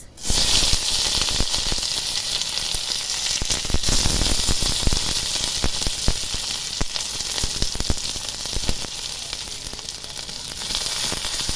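Onion frying in hot oil with five-spice (panch phoron) and dried red chilli, giving a loud, steady sizzle with crackling pops throughout and no talk.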